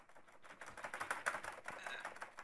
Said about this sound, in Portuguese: Vocês devem até ouvindo o barulhinho do meu teclado aqui, ó.